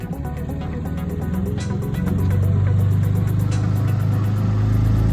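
A sailboat's outboard motor on a Catalina 22 drones loudly nearby, then surges and holds a higher, steadier revving pitch as it speeds up unexpectedly, with a rapid, rhythmic pulse throughout.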